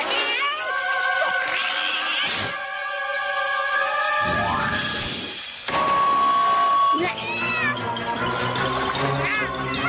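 A cartoon cat meows and yowls in a run of long, wavering, drawn-out cries, loud and close, with some squeaky sweeps between them and talk in the background.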